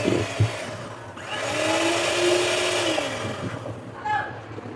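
An electric mixer whirs steadily through brownie cake batter made with melted butter and chocolate, its motor hum rising and holding before easing off, close and fairly loud with no talk.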